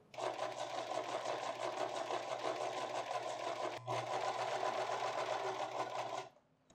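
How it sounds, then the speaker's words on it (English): A sewing machine runs steadily, stitching parallel lines for a double welt pocket, a fast even mechanical whir with one brief hitch midway before it stops near the end. "Now I sew two parallel lines from here to here,"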